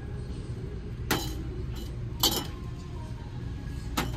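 Glass wine glasses clink together in a store's Halloween decor aisle, with three separate bright, sharp chinks spaced irregularly over a low, steady background hum.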